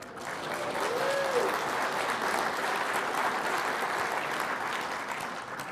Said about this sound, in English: this you really should clap for